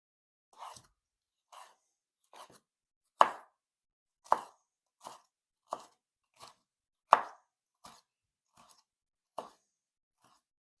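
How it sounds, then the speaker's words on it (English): Vegetables for a pizza topping being chopped with a knife on a board: a dozen or so separate, crisp chops at a slow, uneven pace, close and fairly quiet, with no one talking. "I will chop the vegetables that are going to go on top of the pizza"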